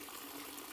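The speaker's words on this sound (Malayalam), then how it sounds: "എന്താ ഫുൾ വെള്ളം തുറന്നു വിട്ടൊക്കെയാണേ" Water gushing at full flow from a bathroom tap, a steady broadband rush that is close and continuous for the whole short stretch, with no voices over it.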